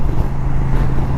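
An Indian motorcycle engine drones under open throttle at road speed, a dense continuous roar blended with wind rush and no breaks.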